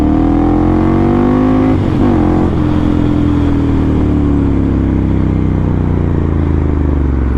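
A Ducati Monster 796 motorcycle engine roars loudly and steadily while riding, with a brief dip and pickup in revs partway through and a continuous rumbling drone throughout.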